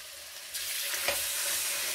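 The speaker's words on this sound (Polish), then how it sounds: "Na rozgrzaną oliwę układamy schab." Pork loin laid into hot olive oil in a frying pan, setting off a steady close sizzle that swells after a soft placement sound and keeps crackling evenly.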